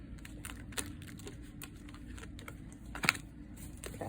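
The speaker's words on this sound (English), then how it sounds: "I'm gonna shuffle again, y'all" A tarot card deck being shuffled, with soft, quick riffling taps and one sharper snap, quiet and close, with no talking.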